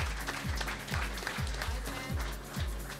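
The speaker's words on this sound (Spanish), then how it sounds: "un aplauso, entonces" Audience applause at an awards ceremony for custom car painting, a fairly faint, continuous patter of clapping under a repeating low rhythmic thump from music or machinery in the background.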